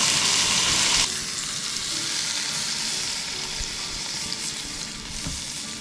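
Ribeye steak frying on a hot pan at a campsite by the Blackfoot River, a bright crackling sizzle that surges briefly at first, then settles into a steady, softer spatter with no talking.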